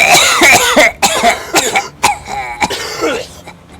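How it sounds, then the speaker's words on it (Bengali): A raspy, rattling cough repeats in several harsh bursts, loud and close, filling the dark, tense scene with no talk over it. "একটা অদ্ভুত খড়খড়ে কাশির আওয়াজ ভেসে"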